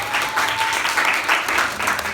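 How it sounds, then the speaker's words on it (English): A 1st-grade secondary class claps for classmates who have just presented an ocean project, sustained and fairly loud, with a few voices mixed into the applause. "A big clap for them, please."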